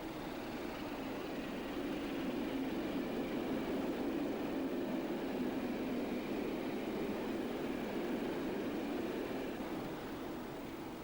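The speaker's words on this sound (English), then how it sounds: "The 1970s also saw sister Class 27 locomotives operating in push-pull formation between Glasgow Queen Street and Edinburgh" Class 27 diesel locomotives in push-pull formation pass Falkirk on the Glasgow Queen Street to Edinburgh line, a steady broadband engine and rail roar holding at a constant level throughout with no talk.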